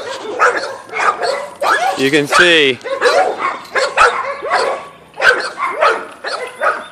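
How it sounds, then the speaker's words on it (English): Several pit bulls bark around a house on all sides, with repeated loud, close barks and a high whine or yip breaking through while someone speaks over them outdoors. "pit bulls behind the house, to the side of the house, to the other side of the house."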